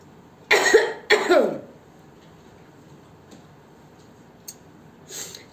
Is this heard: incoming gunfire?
no